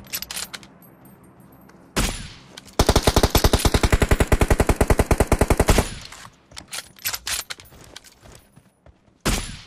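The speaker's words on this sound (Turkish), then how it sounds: "Kim sıkıyor lan?" Rapid automatic gunfire in the mobile battle-royale game PUBG Mobile, a sustained loud burst of evenly spaced shots lasting about three seconds, with scattered single shots and other game noise before and after.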